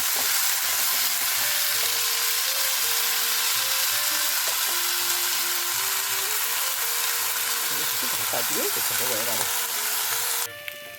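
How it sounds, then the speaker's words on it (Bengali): Moringa leaves with salt, turmeric and chopped chilli fry in a pan, giving a steady, close hiss that runs unbroken throughout, with a brief faint clatter near the end. "এই যে ভাজা প্রায় হয়ে এসছে"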